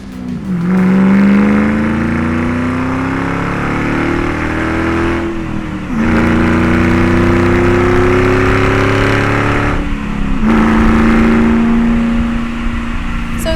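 A deep, raspy Ford Mustang GT axle-back exhaust revs up repeatedly in three long pulls, each rising in pitch before dropping off, loud and close.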